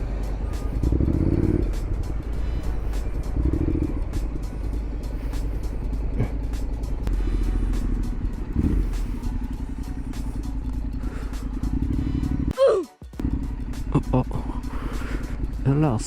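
A new motorbike ridden in a street idles and runs with a steady low engine drone close by, with occasional rattles and a brief disturbance near the end, while people talk over it.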